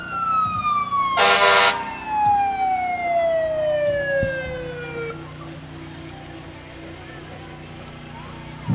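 A Longtown Volunteer Fire Department fire engine, engine number 2, sounds its siren in a Christmas parade in downtown Morganton, giving one loud descending wail that fades out over low street-crowd noise.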